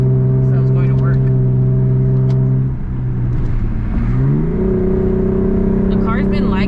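A tuned Lexus accelerating on a bridge, its engine note climbing through a loud, close gear pull, dropping at a shift and rising again, with a person talking over it.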